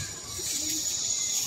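A soft, low pigeon coo rises briefly beneath a constant hiss of background noise, close but quiet, amid a flock of about 80 fighting pigeons.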